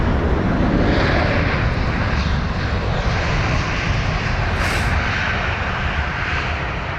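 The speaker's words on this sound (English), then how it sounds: "Using barely any runway there was the Swiss A320neo." A Swiss Airbus A320neo lands at London Heathrow, its engines producing a loud, sustained broadband roar that stays close and steady with little variation through the whole stretch.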